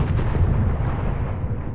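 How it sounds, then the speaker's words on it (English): Explosions in a scene from the Fallout TV show, a dense, rumbling, continuous blast roar heavy in the low end that fills the whole short stretch without any speech. "Oh, yeah, there's the explosions now."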